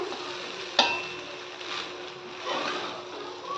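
Cooked rice for omelette rice stirred and turned over in a pan, soft scraping and light sizzling with a sharp spoon click near the start, close and moderately loud.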